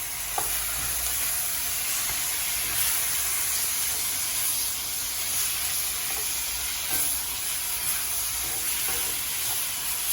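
Beef and vegetable stir fry with a cornstarch, soy sauce and honey sauce sizzles steadily in a pan, a loud, continuous hiss of frying and steam with faint stirring clicks and no talking.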